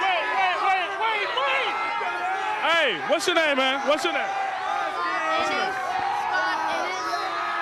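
A crowd at a 2001 homecoming high school football game between Bishop Miege and BV Northwest keeps up a steady roar and cheer from the stands, with someone talking loudly close by over the din.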